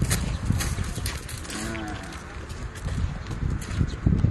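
A goat bleats briefly amid livestock noise at a museum in Saudi Arabia, with hooves shuffling and people talking nearby.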